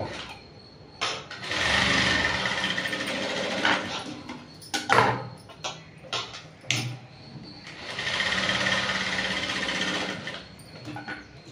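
A sewing machine stitches a princess-cut blouse in two loud sustained runs, with a burst of short stop-start clatters between them, close and alone without talk.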